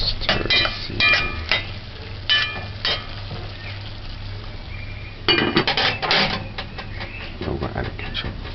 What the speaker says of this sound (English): Stir the seasoning.